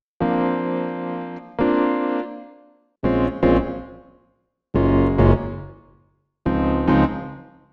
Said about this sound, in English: let's hear an electric piano sound through the studio reverb